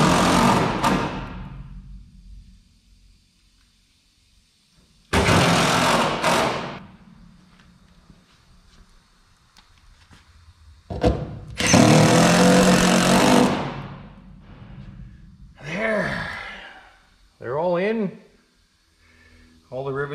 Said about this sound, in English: So we have a few screws to put back in here.